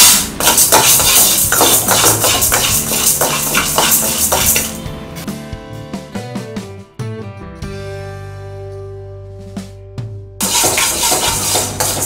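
Chana dal stirred while frying in a pan for idli podi, with busy metallic scraping and clinks of a spoon against the pan, sharp and close, easing to sparse tapping before the clatter returns.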